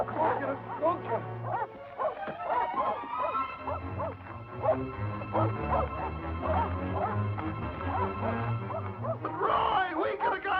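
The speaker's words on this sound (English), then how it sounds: "Turn the dogs loose." Dogs let loose in an old western chase bark repeatedly in quick bursts with yips and whimpers, loud and close, while voices speak over them.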